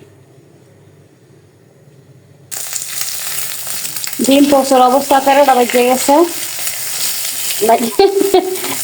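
Red wheat flour roti frying in a wok sizzles steadily after a quiet start, with someone talking over the hiss for much of the time.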